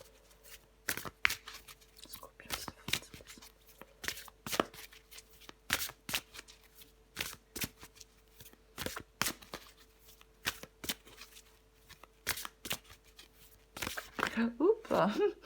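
Tarot cards shuffled close up in a rapid run of crisp riffles and slaps, with brief pauses between bursts, while someone speaks French over them; the shuffling gets busier near the end.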